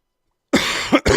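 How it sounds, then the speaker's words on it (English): A man coughs into a close microphone, three rough coughs in quick succession after a moment of silence, loud and alone. "I'm sorry I keep coughing in y'all's ears."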